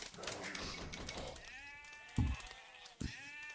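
Sheep bleating in the Age of Empires II video game: short animal cries with a couple of brief thumps near the end, fairly quiet.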